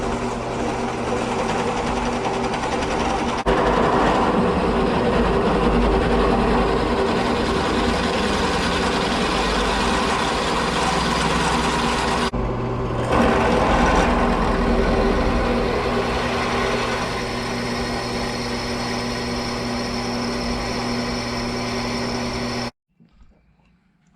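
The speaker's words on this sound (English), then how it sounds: "now I'm going to drill out one of the larger holes now" Continuous high-pitched whine of a power drill with a pilot bit boring holes in a 70cc Minarelli engine crankshaft, steady for about twenty seconds before cutting off abruptly.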